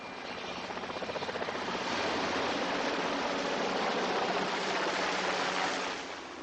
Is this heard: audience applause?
no